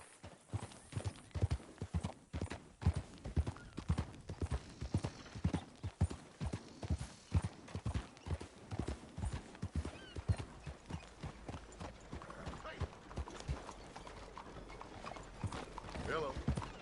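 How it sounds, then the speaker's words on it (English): Horse hooves clip-clop in a steady walking rhythm in the video game Red Dead Redemption 2, fairly close, with a few faint voices in the background and a brief softer stretch near the end. "That's a good horse."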